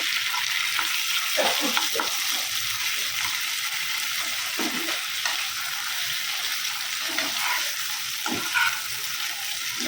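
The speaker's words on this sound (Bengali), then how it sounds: "পেঁয়াজটা লাল হয়ে গেছে দিয়ে দিয়েছি একটু কাঁচা লঙ্কা দিয়ে এর মধ্যে দিয়ে দিচ্ছি চিকেনটা" Chicken fries in a pan with browned onion and green chilli, giving a continuous close sizzle and crackle, with occasional stirring scrapes throughout and no talking.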